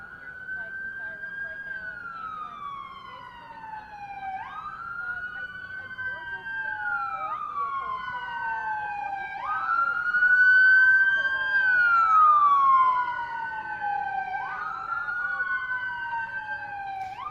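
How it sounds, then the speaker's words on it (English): An arriving ambulance sounds its siren in a loud, close, continuous wail of repeating rising and falling sweeps, swelling slightly louder midway through. "Hey Brooke, very active scene as you can see this ambulance arrive right here."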